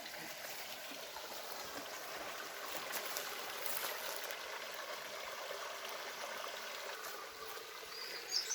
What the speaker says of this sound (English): the little river is part of the edge here